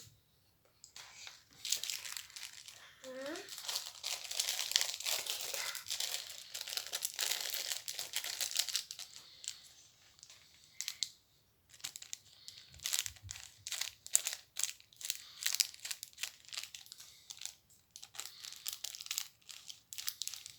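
A plastic Lego DC Minifigures sachet is crinkled and torn open, with a long run of close, busy crackling and rustling and short pauses, while a few faint voices speak now and then.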